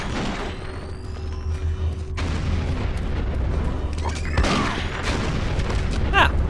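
Video game grenades go off as heavy booming blasts with rumbling low-end, mixed with gunfire-like cracks and other game effects, dense and loud throughout, with a voice talking underneath.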